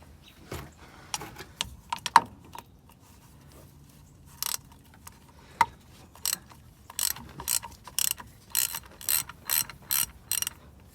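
A ratchet backs out bolts on the front differential of a 2004 Ford F-150 4.6L 4x4, sounding as close, crisp bursts of rapid clicking that turn into a steady rhythmic series of short strokes, with no talking.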